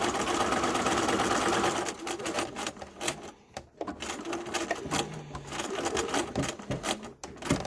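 A sewing machine stitches fabric mask strips in 3-inch sections, running in a steady mechanical whir at first, then breaking into shorter stop-start bursts with small clicks of needle and foot adjustments.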